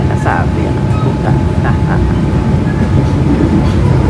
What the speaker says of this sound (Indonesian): Sesaat lagi kereta api panoramik akan melewati Jembatan Cikubang